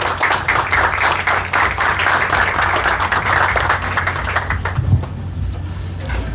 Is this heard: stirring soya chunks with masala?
no